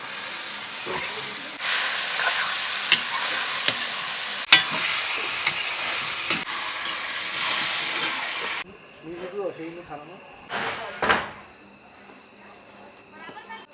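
Goat liver dropped into hot spiced oil over a wood-fired hearth, with stirring and a loud sustained sizzle for most of the stretch before it quiets, followed by scraping, clinks and a few brief rustles.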